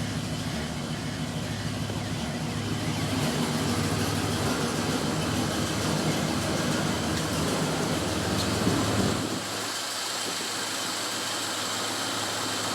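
A 1972 Chevrolet Impala donk, freshly converted from a carburetor to Holley Sniper EFI, cold-starts and holds a loud, steady rumbling idle for about nine seconds before the engine note abruptly drops to a quieter, thinner running sound.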